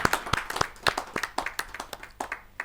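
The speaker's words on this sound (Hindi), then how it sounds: "जोरदार ताली के साथ हम उनका स्वागत है" An audience at a Hindi poets' gathering claps briskly to welcome a poet. The irregular, fairly close claps are sustained throughout the short stretch with no voices.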